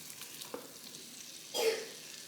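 Butter hits a hot pan to deglaze browned chicken fond, giving a short burst of sizzling that swells and fades near the mic, with faint clinks and stirring before it.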